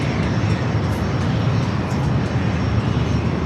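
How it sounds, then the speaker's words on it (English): An American Airlines Boeing 737-800 arriving from Phoenix at San Diego airport produces a broad, steady jet roar that holds loud and constant throughout. "American Airlines Flight 1950 coming up from Phoenix, a 737-800"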